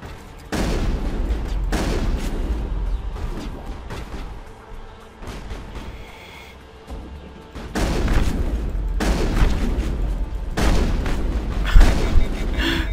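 Heavy shotgun blasts and battle gunfire in the Mass Effect video game, several loud booming bursts with short lulls between them, the firefight rising again in dense, repeated volleys toward the end.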